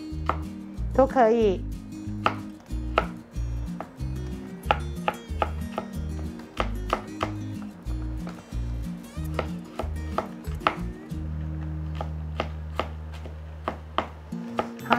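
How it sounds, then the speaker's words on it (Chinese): Garlic is chopped with a knife on a cutting board, a close, steady run of rapid wooden thuds and taps with a brief scrape near the start, while a voice speaks briefly. "然后蒜头，看你要切片还是要切末，"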